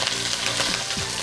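Yellow croaker fish pan-frying in a little oil, making a loud, continuous close sizzle with a scrape of stirring partway through.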